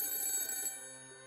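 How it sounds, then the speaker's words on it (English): A cell phone lying on a table rings with a bright electronic ringtone, steady and fairly close, its tone sustaining and fading slightly with no voices. "my cell phone, sitting on the table, started ringing"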